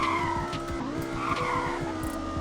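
A car drifts in the Roblox Greenville video game, its tires skidding with a continuous squeal over a rough, pulsing engine drone, loud and close throughout.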